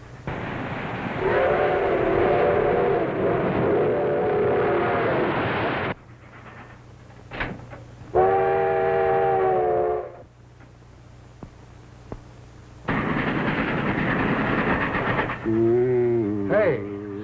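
Train in a 1938 crime drama film, with loud stretches of rolling rail noise and a sustained horn or whistle, broken by quieter gaps with brief talk.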